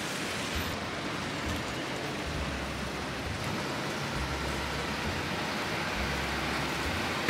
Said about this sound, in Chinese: 带大家看看下雨天的巴黎。